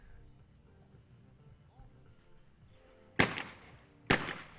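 Two sharp, loud shotgun blasts at skeet targets on an outdoor range at a European junior men's championship crack out about a second apart, each with a short decaying tail, after a quiet stretch of faint background murmur.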